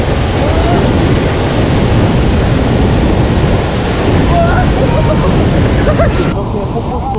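Roar of Niagara Falls heard up close, a loud, continuous broadband rush of falling water and spray that stays steady throughout, with wind buffeting the microphone and brief faint voices underneath.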